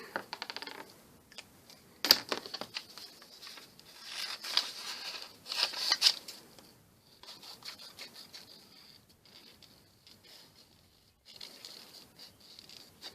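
Scissors snip through magazine paper to cut out images, giving a scattered run of short, crisp cuts and rustles at close range with quiet pauses between them and no talking.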